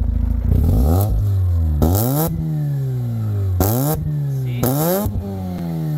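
A Mazda RX-8 sports car engine revs sharply several times, each rise followed by a falling whine back toward idle, loud and close.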